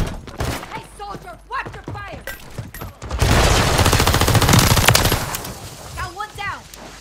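Sustained automatic gunfire in the Call of Duty video game, a dense loud burst of rapid shots in the middle with shouted voices before and after.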